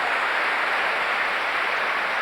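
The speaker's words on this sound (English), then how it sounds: "But the crowd applauding" A large football crowd applauding at Goodison Park during Everton against Newcastle United, a dense, continuous wash of distant clapping with no individual claps standing out and no talk over it.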